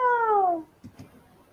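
A single cartoon cat meow, clear and close, slowly falling in pitch, followed by a couple of soft thumps.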